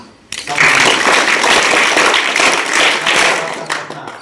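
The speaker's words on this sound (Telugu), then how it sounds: "వీళ్ళు కూడా ఒకసారి క్లాప్స్ ఇవ్వండి" Students being praised at a school gathering get a burst of audience applause: many hands clapping at once, loud and sustained for several seconds before tapering off.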